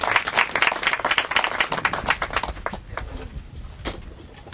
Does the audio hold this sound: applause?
yes